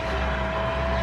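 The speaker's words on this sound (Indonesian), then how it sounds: "melainkan suara desis turbin yang mirip jet tempur" An M1 Abrams tank's gas turbine engine emits a steady, continuous hiss and whine with a low rumble underneath, loud and unbroken, with no other sounds on top.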